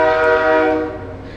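A passing train sounds its horn in one loud, sustained, close blast that fades slightly at the end.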